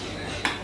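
A spoon knocks once against a dish while butter is mixed in a studio kitchen, a single bright clink near the mic over a steady low background hum.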